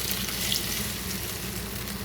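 Water hits a hot stovetop and gives off a steady, close sizzle that lasts the whole moment, with no talk over it.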